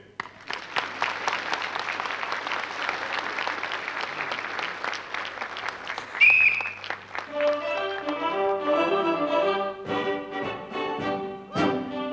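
A studio audience applauds as teams come out on stage at a 1984 Latvian television quiz show: steady, dense clapping for about six seconds, then music with rhythmic clapping continuing under it.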